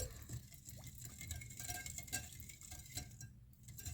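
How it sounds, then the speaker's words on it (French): Homemade lemonade with sugar is stirred in a bowl. Faint, irregular spoon scrapes and light clinks against the bowl sound close by in a quiet room. "Alors, on va bien mélanger."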